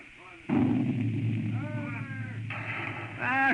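Cannon fire from 6-pound shot in a naval dramatization, a loud booming blast followed by rumble and a second burst, with voices speaking over it.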